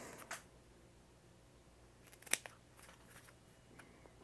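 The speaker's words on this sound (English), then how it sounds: "cut us off a piece." Faint, close scissors cutting double-sided foam: a soft snip early on, then a brief cluster of crisp snips, in a quiet room with no talking.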